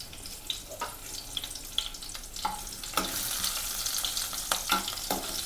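Cumin seeds and a dried red chilli sizzle in hot oil for a tempering while making farali jeera aloo, a steady close crackle and spatter with sharp pops scattered throughout, growing denser toward the end, no talk.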